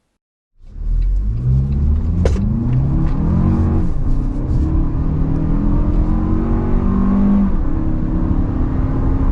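A 2023 Toyota Highlander with a turbocharged four-cylinder accelerates hard, its engine note climbing steadily in pitch from a close rumble to a loud, sustained drone with no talking.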